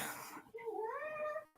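A house cat in a home painting studio gives a single clear, close meow with a rising then falling pitch, short and alone without talk.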